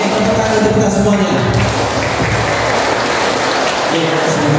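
An audience at an anti-violence and anti-bullying school talk claps together in a dense, loud, rain-like wash of applause that holds for several seconds, with a voice faintly audible near the start.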